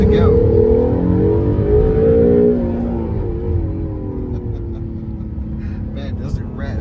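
An Acura NSX engine revs hard toward 7,000 RPM, a loud, rising harmonic wail that climbs for about two seconds, then eases into a lower, steadier drone as it settles. A voice is faintly present under the engine.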